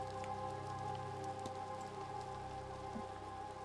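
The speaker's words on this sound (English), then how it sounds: "It's raining, of course." Rain in the video game The Séance of Blake Manor patters steadily and softly on surfaces, a constant even hiss over a low sustained tonal drone.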